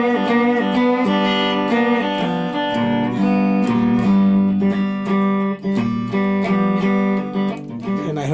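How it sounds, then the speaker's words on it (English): Five-string guitar in open G tuning strummed in steady chords with ringing open strings and bright picking accents, loud and close with no talking. "So anyway, this is the sound of a 5-string guitar tuned in open G."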